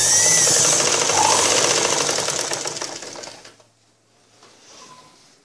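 Sewing machine stitches a blouse shoulder seam on a cross-cut blouse, a loud steady whirring run of about three and a half seconds that slows and stops, then near silence with a faint brief rustle.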